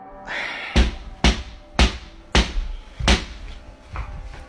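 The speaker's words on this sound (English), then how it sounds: "the banging occurs again on what sounds like a pane of glass" Five sharp bangs on a pane of glass, spaced roughly half a second apart, loud and close, with no voices.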